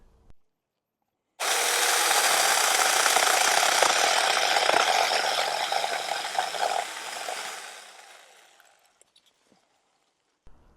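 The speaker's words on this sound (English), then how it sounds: "let's get the chainsaw and let's make the first cut" A small Supstable mini chainsaw roars into a steady cut through a tree branch for about six seconds, then fades and winds down as the branch gives way, with quiet before and after.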